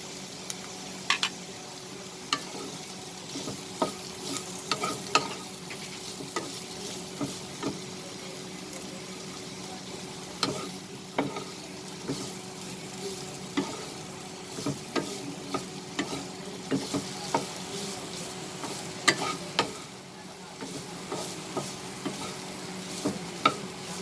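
Green chili fries in a tablespoon of oil for a chicken roll filling, a soft steady sizzle broken by frequent sharp clicks of stirring against the pan over the whole stretch.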